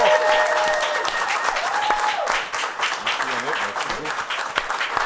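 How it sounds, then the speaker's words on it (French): Audience applause for comedian Yannick De Martino at a comedy roast show in Granby, loud dense clapping running throughout with cheers and voices mixed in. "une bonne applaudissement s'il vous plaît pour Yannick Damartino"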